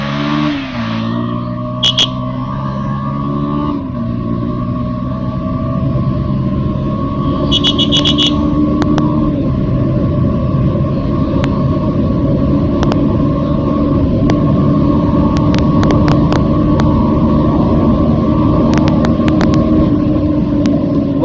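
Motorcycle engine pulling steadily in first gear on a rough road, a loud close drone with rising harmonics as it accelerates, continuous for the whole stretch with occasional clicks and wind noise.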